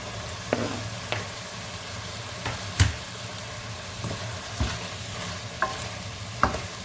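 Sweet chili pepper pieces frying in a spoonful of margarine, stirred with a utensil that knocks against the pan several times over a soft, steady sizzle, close up with no talking.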